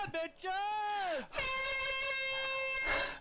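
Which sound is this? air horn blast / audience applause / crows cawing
air horn blast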